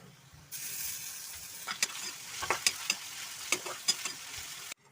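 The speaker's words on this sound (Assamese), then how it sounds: "এতিয়া তেলত দিছোঁ মই আদা নহৰু।" Ginger and garlic hit hot oil in a home kitchen pan while cooking a greens and egg gravy, giving a steady close sizzle broken by several sharp clinks and scrapes of a stirring spoon.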